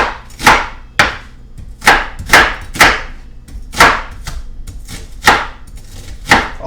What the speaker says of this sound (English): I'm just going to use the old butcher knife.